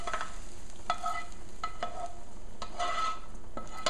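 Sautéed onions tipped from a pan into a pot of bolognese sauce, brief scraping and stirring strokes with a soft sizzle underneath, close and fairly quiet, no talking.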